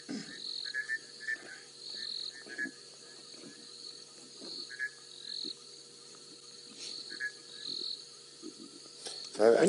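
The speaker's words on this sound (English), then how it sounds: "we can hear some bushveld rain frogs calling now" Bushveld rain frogs call outdoors at night on a safari drive: faint, repeated chirping bursts come in irregular clusters over a steady insect hum, with a few soft bumps and low murmurs.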